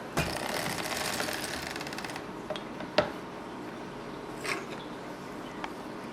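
A circular sock knitting machine works the heel of a ribbed sock, giving a rapid close clatter of needles for about two seconds, followed by a few isolated clicks and light mechanical ticks in a quiet room.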